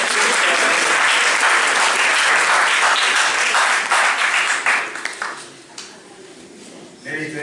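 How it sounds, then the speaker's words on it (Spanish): A church congregation bursts into applause for Nelly, a loud, dense clapping that thins and fades toward the end, with voices rising faintly beneath it. "Un aplauso para"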